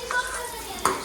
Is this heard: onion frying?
yes